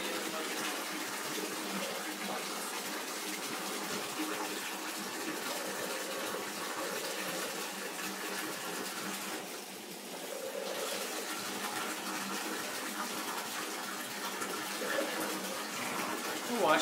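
Tap water runs in a steady, gushing stream while someone washes their face, close by and continuous, with a brief dip partway through.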